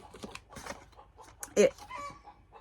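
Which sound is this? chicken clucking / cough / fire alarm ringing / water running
chicken clucking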